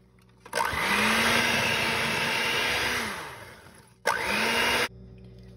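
An electric hand mixer whirs steadily as it beats ricotta cheese into cookie batter, running for a few seconds, slowing, then starting again briefly before cutting off.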